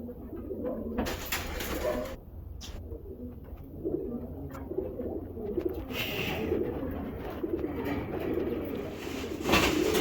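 A female racing pigeon from a club-raced loft coos in repeated low, soft calls, with short bursts of handling noise and rustling in between.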